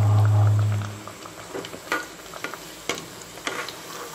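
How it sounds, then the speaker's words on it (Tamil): A puri dropped into hot oil in a kadai over a medium flame fries with steady sizzling and soft bubbling, a loud burst at first settling into crackles and spits, with no talking. "இப்போ ஒரு பூரியாக நம்ம எண்ணெயில் போட்டு பொரிச்சு எடுக்க போகிறோம்."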